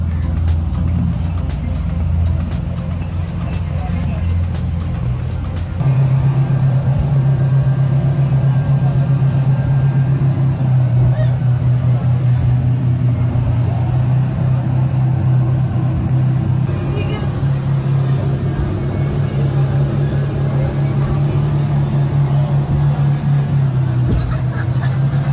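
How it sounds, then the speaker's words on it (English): Steady engine drone of a speedboat ride, carrying luggage to Boracay, with a low continuous hum and rough broadband water rush that shifts and thumps as the hull bounces, loud and close throughout. "The staff helped to bring all the luggage and store it inside the speedboat, and the ride was really fast."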